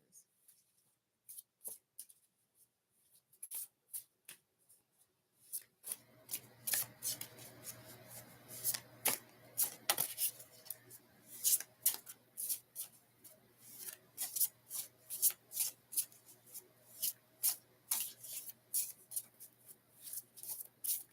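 Tarot cards are shuffled close up in repeated quick riffling bursts, soft at first and then more frequent and steady, over a faint low hum.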